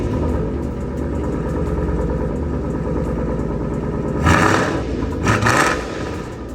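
Ford Mustang S197 5.0 V8 fitted with a Borla over-axle exhaust, idling with a lumpy burble and then two sharp, loud revs that fade back to idle.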